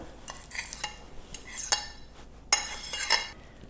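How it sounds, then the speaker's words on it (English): A whisk taps and swishes against a bowl while beating banana zucchini bread batter made with sour cream and vanilla extract. The strokes come as close, irregular clinking bursts with no voices. "Just give that a good whisk."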